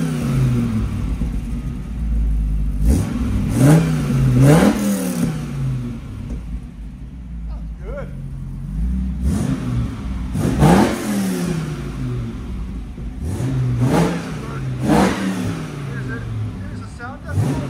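2004 Dodge Ram SRT-10 with an 8.3L V10 and Magnaflow exhaust, revved repeatedly in deep rising and falling roaring pulls over a steady rumbling idle, loud and close, with people talking in between.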